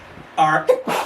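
A single close, sharp sneeze bursts out, followed by a brief voiced sound, with a word of speech just before it.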